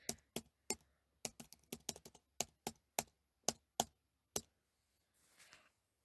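Button taps on a calculator, a quick run of about fifteen sharp, close clicks in uneven bursts, ending with a faint rustle.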